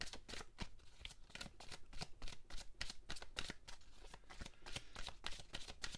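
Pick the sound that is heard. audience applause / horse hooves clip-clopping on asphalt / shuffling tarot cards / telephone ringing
shuffling tarot cards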